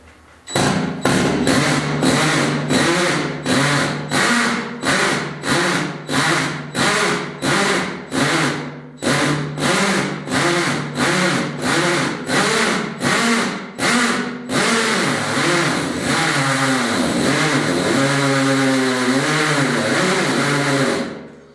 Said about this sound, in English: So, drill and hammer, safety glasses engaged.